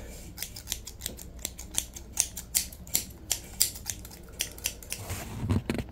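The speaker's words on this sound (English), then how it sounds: "Scissors." Scissors snipping close up in a quiet room, a steady series of crisp, sharp cuts at an even rhythm lasting several seconds.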